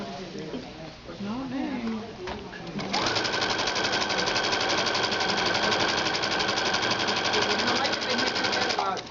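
Sewing machine stitching a fat quarter skirt, starting after a few seconds of talk and then running as a steady, fast mechanical whir and rattle, close and continuous, with someone speaking over it.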